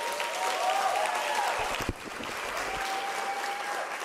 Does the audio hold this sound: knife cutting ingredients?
no